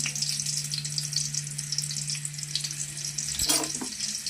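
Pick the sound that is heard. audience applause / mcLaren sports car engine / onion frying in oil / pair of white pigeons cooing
onion frying in oil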